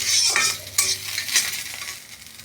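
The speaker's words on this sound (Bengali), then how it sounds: "এই যে কপি পাতাগুলো ভাজা ভাজা হয়ে গেছে," Cauliflower leaves frying crisp in a pan, with a close, continuous sizzle broken by a few sharp stirring scrapes.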